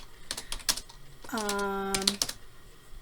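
Keys clatter on a computer keyboard while Python code is entered, short close clicks in small bursts. A sustained harmonic tone, likely a voice, sits in the middle of the clip and partly covers the typing.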